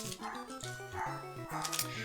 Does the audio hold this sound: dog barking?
yes